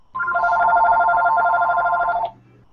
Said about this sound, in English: no, that's my phone.